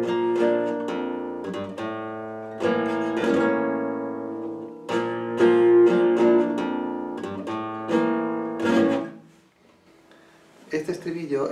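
A flamenco guitar plays the estribillo of tientos, rhythmic strummed chords and rasgueado bursts with ringing sustain, close and full, briefly pausing before more strums at the end.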